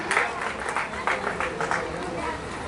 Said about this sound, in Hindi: कवियों के सम्मान में तालियां बजनी चाहिए